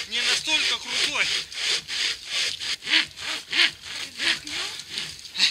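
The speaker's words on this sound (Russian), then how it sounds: "Пилить непросто." Pocket saw for hikers and anglers cutting through a tree outdoors, a rhythmic series of raspy back-and-forth strokes, close and steady, with two people working together.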